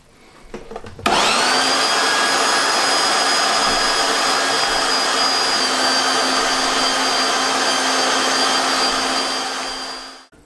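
An electric meat mincer grinds beef through the medium plate, starting abruptly with a loud, steady high-pitched motor whine and grinding roar that holds for about nine seconds before winding down, with no talking.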